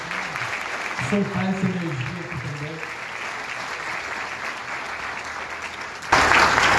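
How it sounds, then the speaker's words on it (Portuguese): Audience applause at a book club gathering with an author, a broad burst of clapping rising near the end after speech and voices carry over the first part. "Nós podemos bater palmas aqui pra gente"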